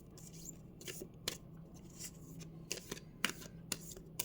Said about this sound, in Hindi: Rest all the cards are shuffled.